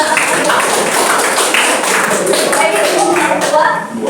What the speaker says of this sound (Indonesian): Kita berikan tepuk tangan buat kelompok kedua